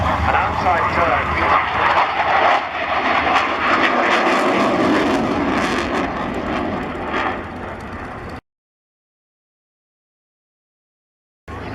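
Propeller or jet display aircraft at the 2013 Cosford Airshow flying a loop, a loud sustained engine roar with shifting pitch as it passes overhead, outdoors with a crowd faintly murmuring, then cutting to silence near the end.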